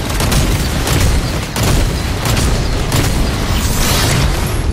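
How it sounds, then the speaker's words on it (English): Dense, continuous gunfire and booming blasts from a video game horde-rush match, loud and sustained with no letup and no talking over it. "Shotgun fire."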